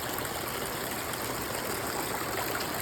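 Heavy rainwater from a downpour pouring off one part of a roof, a steady close rushing splash like a stream, continuous and unbroken with no talking.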